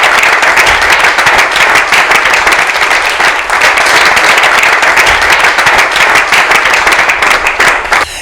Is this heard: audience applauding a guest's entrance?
yes